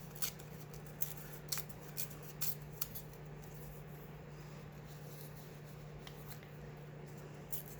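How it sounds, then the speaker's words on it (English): Paper torn by hand for a journal cover, a few short separate rips with quiet pauses between them over a steady low hum, close up and soft, with no talking. "I always tear backwards."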